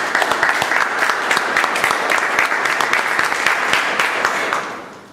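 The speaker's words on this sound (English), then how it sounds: "So a big round of applause for Esther." Sustained applause from an audience at a Toastmasters meeting, a steady crackle of many clapping hands held at an even level for about four and a half seconds before tapering off at the end.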